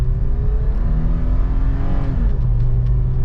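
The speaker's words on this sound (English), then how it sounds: "The 4-liter GR engine makes a lot of noise." A 2024 Toyota 4Runner's 4-liter V6 engine accelerating hard from inside the cabin, a loud droning rising whine climbing in pitch and then shifting down briefly, with steady road noise underneath.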